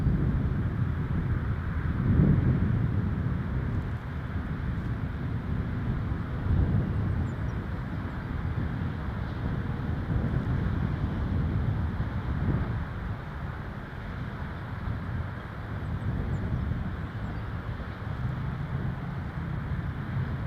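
PIA airliner at Toronto Pearson Airport, a steady broad low rumble of jet engines heard at a distance through continuous outdoor wind noise, sustained without a break.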